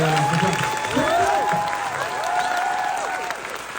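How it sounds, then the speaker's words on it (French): Applause fills a room as a French-speaking audience claps, a dense, even wash of many hands with faint whistling tones threading through it. "Je vous demande de l'applaudir comme il se doit parce que ça fait très plaisir"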